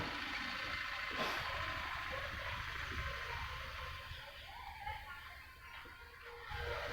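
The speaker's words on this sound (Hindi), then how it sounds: "गाड़ी का आवाज आएगा, आप लोग उसको इग्नोर कर दीजिएगा" A passing vehicle sounds its reversing beeps outside, a faint repeating beep with a low engine rumble under broad background noise, distant rather than close.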